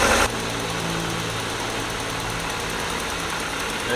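Car engine idling after an injector swap, a steady close rumble with a faint regular knock, continuous and even throughout, with a brief louder burst at the very start.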